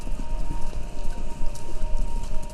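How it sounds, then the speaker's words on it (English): Rapid hoofbeats from a video game, Kentucky Route Zero, pound steadily, like horses galloping, with a low rumble and a faint steady tone running underneath. "Sounds like horses. Horses running?"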